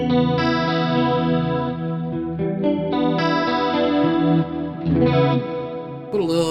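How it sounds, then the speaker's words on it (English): Electric guitar run through a Kemper Stage profiler with reverb added, sustained chords and notes ringing with a lush chorused, slightly driven tone and a wash of reverb tail, loud and continuous throughout with no talking. "Put a little bit of that reverb in there. That's in the Kemper."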